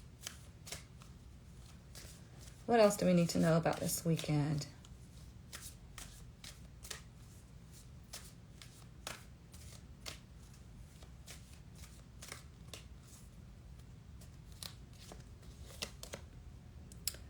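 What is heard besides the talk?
shuffling tarot cards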